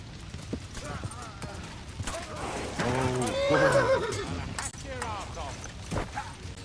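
A horse whinnies loudly in a rising, wavering call, with hooves clattering and a voice speaking close by.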